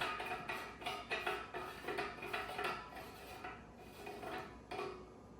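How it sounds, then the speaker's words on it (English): Metal and plastic parts knock and scrape as a stuffing tube is fitted onto a LEM sausage stuffer, a series of close, light clinks and clacks at an irregular rhythm, fairly quiet. "Gonna go ahead and put my sausage tube on."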